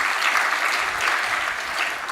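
Symposium audience of postgraduate students clapping for themselves, a brief, even burst of many hands at steady loudness with no talk over it.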